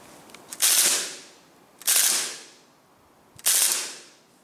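Three sharp reports from a KSC M93R airsoft pistol firing on three-round burst, each a crisp snap with a brief decaying tail, spaced about 1.4 seconds apart, close and fairly loud with no talking.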